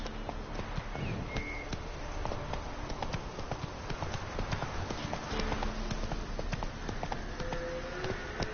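Roach, a horse in The Witcher 3 video game, gallops with steady rhythmic clip-clop hoofbeats throughout, mixed with game ambience and faint background sounds.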